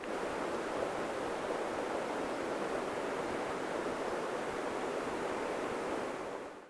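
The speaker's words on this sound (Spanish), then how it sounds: "Quiero que cierren sus ojos y escuchen por favor el río, la naturaleza, los pájaros." A river at the Iguaque lagoon rushes in a steady, dense wash of flowing water, moderately close and uninterrupted, with no voices.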